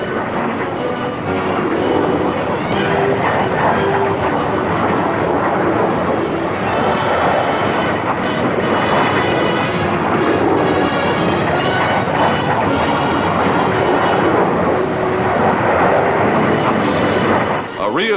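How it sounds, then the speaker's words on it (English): A formation of jet aircraft taking off, heard from aboard one of the jets in 1953 footage: a loud, continuous engine roar that fills the whole stretch without letting up. "Here's the dramatic takeoff, filmed from one of the jets in the formation."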